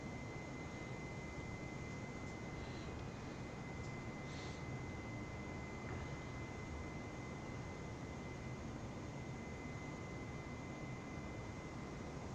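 An airplane engine run up to full throttle during a climb in a flight simulator game: a steady, broad, faint roar holding even for the whole stretch, with no voices over it.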